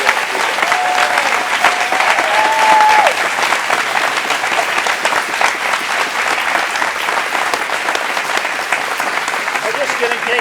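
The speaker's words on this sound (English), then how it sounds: "So if you would give a round of applause to our director, James Phillips," A theater audience at a Grace Theater fall production of 'It Happened on 5th Avenue' applauds the director and assistant director, with dense, sustained clapping from a full crowd that holds steady for about ten seconds.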